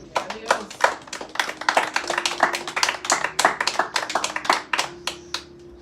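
A church congregation claps in fast, uneven bursts, dozens of sharp hand claps piling up into a lively rhythm that thins out toward the end, with a voice faintly audible beneath.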